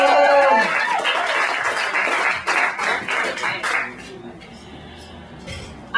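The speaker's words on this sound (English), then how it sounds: "Let's bring her up with a big round of applause, Megan Dolan." A comedy-show audience bursts into loud applause and cheering as a comedian is brought onstage, the clapping tapering off over a few seconds into quieter room noise.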